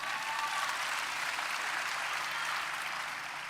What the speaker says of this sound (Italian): Ok, facciamo un applauso